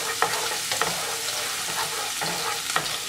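Vegetables frying in garlic-infused oil are stirred in a pan, giving a steady close sizzle broken by several scraping stir strokes, with no talking.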